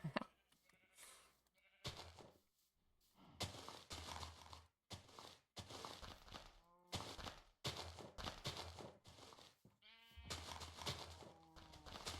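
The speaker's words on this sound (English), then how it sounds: "sheep just glitched through the roof there" Sheep in Minecraft bleat again and again in short wavering cries, fairly close and loud, separated by brief gaps, with no voices.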